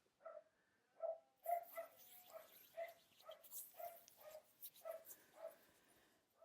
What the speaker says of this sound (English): There he is barking.